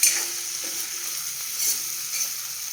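Spice mix with garam masala being stirred and sautéed in a pan for a cauliflower dish, a steady soft sizzle with scraping spoon strokes throughout, close and alone without any talk.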